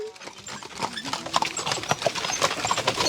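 Horses' hooves clip-clopping in a rapid, irregular patter amid a busy background, moderately loud and steady through the whole stretch.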